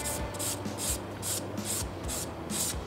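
Sandpaper rubbing along the parting line of a plastic Fujimi Enzo Ferrari model car body, a close, steady rasp in short rhythmic back-and-forth strokes, about seven passes with no talking.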